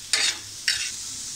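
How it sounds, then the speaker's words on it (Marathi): Garlic cloves and a little ginger dry-roasting in a pan without oil, two brief scraping stirs with a hissing rustle, close and fairly loud. "त्याच्यामध्ये लसणीच्या पाकळ्या आणि थोडं आलं, हे आपल्याला थोडंसं लाल रंग येईपर्यंत थोडंसं परतून घेऊया."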